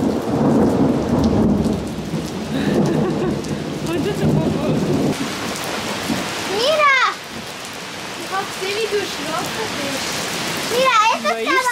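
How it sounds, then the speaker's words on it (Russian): Heavy rain pours steadily while thunder rumbles low at the start, with chirping calls from frogs or birds breaking through in the later part. "Небо прям вообще разбушевалось. Дождь пошел."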